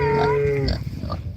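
A pig on a farm gives a single loud, drawn-out squeal close to the microphone, then breaks into rough snuffling grunts and shuffling noises.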